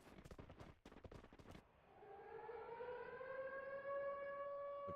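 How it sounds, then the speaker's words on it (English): In the video game Free Fire, a rising, wailing long-range danger-zone siren swells in after a burst of sharp bangs, holding a steady multi-toned howl that grows louder and sustained. "we start to hear the long-range sirens coming out as going to be the danger zones"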